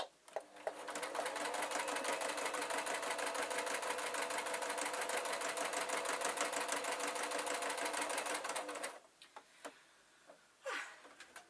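A sewing machine stitches a fabric bookmark in one steady, fast mechanical run of about nine seconds, close and alone, then stops, followed by a few small clicks and handling sounds.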